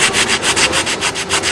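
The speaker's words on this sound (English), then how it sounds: "The restorers now need only apply a finish sanding to the most distinctive feature of the columns, the fluting" Restorers hand-sand the fluting of a marble column during the Parthenon restoration, making a loud, close, steady rasping with about eight quick rhythmic strokes back and forth.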